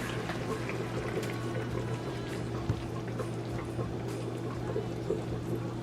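Steady pouring of coconut milk, a soft continuous trickle with a low hum underneath, fairly quiet and close, with no talking.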